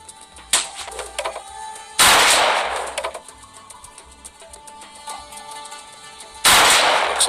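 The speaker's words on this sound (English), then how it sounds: "Now shoot those targets." Gunfire at practice targets in the mobile shooter Modern Combat Sandstorm: three loud, sharp bursts of shots, each followed by a short decay, spaced across the span with quieter game ambience between them.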